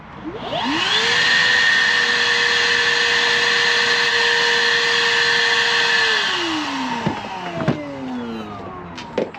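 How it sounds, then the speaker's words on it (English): Shop vacuum cleaning out a Honda single-cam turbo engine part, a loud steady motor whine that holds for about six seconds, then spins down with a falling pitch and a few knocks and clatters at the end. "Make sure we go in there with this vacuum and clean it out real good."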